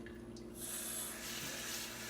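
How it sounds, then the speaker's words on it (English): Tap water runs into a kitchen sink as a Norwex cleaning cloth is rinsed, a soft, steady splashing that grows slightly fuller partway through, heard quietly and alone. "and then I just gotta rinse it out"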